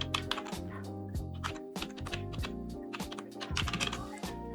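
Quick bursts of clicky keystrokes on a computer keyboard as a short folder name is typed, uneven taps clustered in rapid runs with brief pauses.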